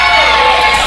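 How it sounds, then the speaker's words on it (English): A roaring wrestling crowd in Cornelia cheers and shouts continuously during a cage match, a loud, dense wall of voices with high-pitched whoops. "this crowd here in Cornelia, they have not sat down since this match started. They are going crazy"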